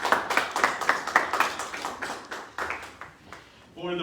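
Scattered clapping from an audience at a college event for a congressman, distinct individual claps in an uneven rhythm that thin out toward the end, where a voice begins speaking.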